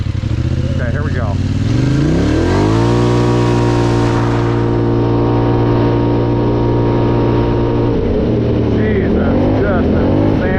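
Honda 450 sport quad ATV engine climbing in four-wheel drive, a loud, steady motor drone that rises in pitch and holds, close up, with voices briefly over it.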